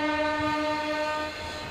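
A WAG 5P electric locomotive rolls toward the platform at Lucknow Junction, a loud, continuous mechanical drone with steady tonal whine and low rumble, close by and fading slightly at the end.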